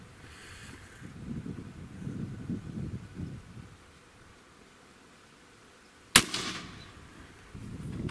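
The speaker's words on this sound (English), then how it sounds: "All right, that was shot number one." A single sharp, loud report from an AEA Element MAX .50 caliber air rifle cracks out once, after a stretch of quiet outdoor wind and rustle, then fades quickly.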